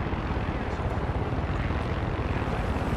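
Helicopter in Far Cry 6 flying high above the ground, a steady dense rotor and engine drone at constant loudness throughout.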